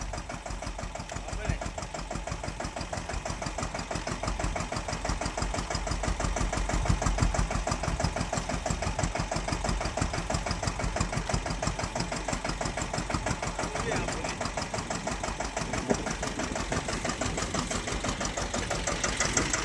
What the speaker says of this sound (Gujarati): આ રીતના દવા છટાઈ રહી છે અત્યારે.